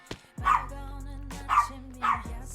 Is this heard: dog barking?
yes